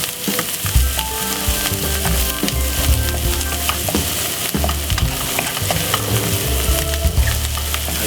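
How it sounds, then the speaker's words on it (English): King prawns sizzle and fry in a pan of curry as all-purpose seasoning is stirred in, with continuous loud crackling and occasional scraping knocks of the spoon against the pan. "Give it a nice, lovely stir."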